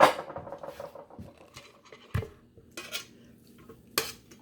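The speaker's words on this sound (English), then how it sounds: "now I'm really getting my celery and my onion all stirred up, ready to go" A spoon stirs chopped celery and onion into a large bowl of red potato salad, scraping and clinking against the dish in uneven bursts with sharper knocks in between, close and moderately loud.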